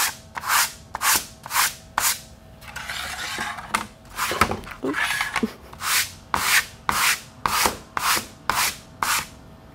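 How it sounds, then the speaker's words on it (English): Hand sandpaper rubbing across a wooden clipboard, loud close strokes in a steady back-and-forth rhythm, with a stretch of quicker continuous scrubbing in the middle. "show you how I took and used this sandpaper"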